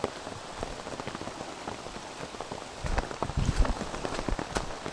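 Rain patters steadily on a wet, boggy mountain trail on the Appalachian Trail near Stratton Mountain, with dense close drops and a few heavier splatters building toward the end, no voices.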